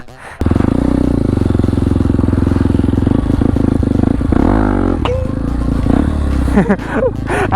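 A Kawasaki KLX230 dirt bike engine runs loud and close while being ridden on a track, holding a steady drone, then revving up and dropping back in a couple of surges near the end.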